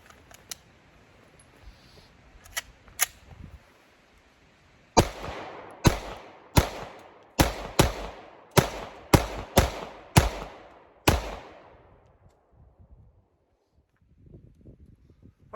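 An FN Five-Seven pistol fires about ten rapid, loud, sharp shots in steady succession, each with a short echoing tail, preceded by a few faint metallic clicks and handling noises.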